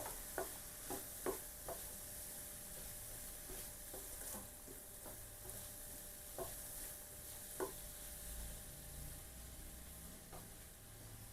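Vegetables for Schezwan fried rice stir-fry over high flame, with a low continuous sizzle and scattered knocks and scrapes of the spatula against the pan, quiet and close, and no one talking.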